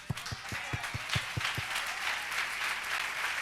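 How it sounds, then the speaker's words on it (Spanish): Applause from an audience, starting with a few distinct, evenly spaced claps from a nearby pair of hands and then growing into a steady, moderately loud round of clapping. "Y todo el mundo le aplaude."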